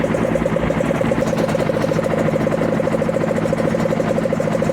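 A Suzuki RG400 classic two-stroke motorcycle engine idles steadily up close, with a rapid, even, buzzing pulse and mechanical rattle that continue without a break.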